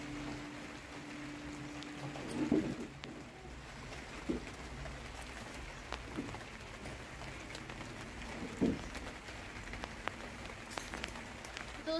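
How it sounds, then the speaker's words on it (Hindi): Steady winter rain in January falls as a soft, continuous hiss, faint and distant, with a few louder drops or knocks now and then and no talk. "हमारे यहाँ तो कुछ इस तरीके की जो है बारिश का मौसम चल रहा है इस टाइम जनवरी में भी बारिश लगी हुई है"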